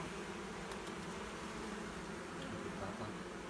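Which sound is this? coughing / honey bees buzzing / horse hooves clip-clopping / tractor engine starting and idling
honey bees buzzing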